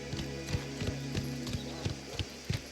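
Horse hooves clip-clop in Mafia: The Old Country, with a steady, evenly spaced rhythm of moderately loud hoof strikes over a soft background murmur.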